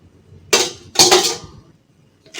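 Liquid soap mixture being stirred in a metal pot, giving two loud bursts of scraping, clattering contact close by, then near silence and a faint knock at the end.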